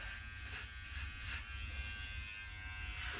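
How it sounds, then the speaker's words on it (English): GLAKER cordless beard trimmer running across a man's face, a close steady electric buzz with slight changes in pitch as the blades move over the beard. "we're going to kind of shave half the face to start with so you can see the difference"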